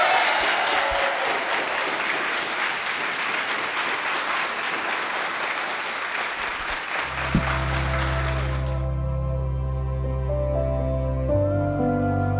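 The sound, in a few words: audience applause at a wedding ceremony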